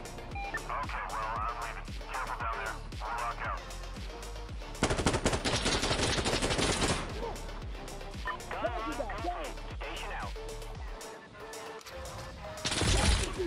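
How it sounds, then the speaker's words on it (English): Rapid bursts of automatic gunfire and single shots in Insurgency Sandstorm, loud and dense, with heavy sustained volleys in the middle and at the end. A player talks over the shooting. "They shooting over here."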